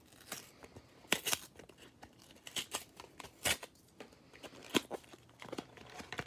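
Hands rip open a mini tin of football trading cards, giving sharp irregular tearing and crinkling bursts of packaging and foil, close by and uneven in rhythm.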